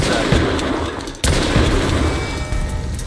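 Shotguns boom in a combat video game, with a run of loud, dense gunfire blasts and one especially sharp shot near the middle, close and continuous with no clear speech.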